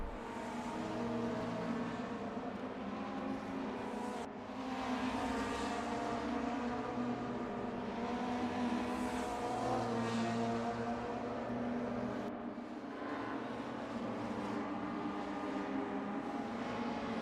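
Race cars in a video game racing series overtaking on a German circuit, a steady, continuous engine drone that swells and dips slightly as cars pass one another, with no talking.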